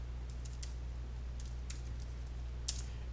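Someone types a command on a computer keyboard in a terminal, faint scattered keystrokes clicking in a few quick bursts over a low steady hum, no speech.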